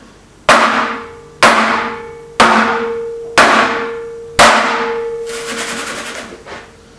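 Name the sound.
baking tray banged on counter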